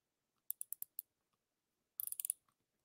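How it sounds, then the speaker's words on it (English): Star drag on a fishing reel being turned, two close bursts of crisp rapid clicks: five evenly spaced ticks first, then a quicker cluster of about seven, in an otherwise quiet room. "whenever you move that star drag, it clicks"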